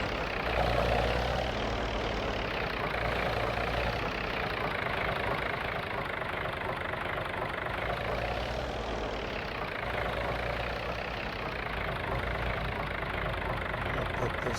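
A tractor engine idles in Farming Simulator 22, a steady mid-to-low rumble that runs continuously and loudly with a slight pulsing, close up and without pauses.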